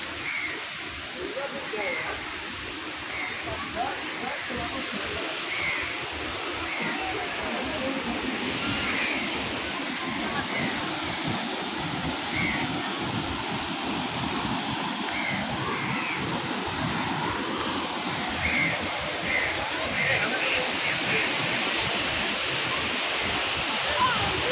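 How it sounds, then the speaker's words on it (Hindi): Vindam Falls waterfall near Mirzapur, Uttar Pradesh: a steady broadband rush of falling water fills the scene continuously, moderately loud, with a person talking over it. "चलिए आपको झरना दिखा रहे हैं जहाँ पे पानी गिरते हैं,"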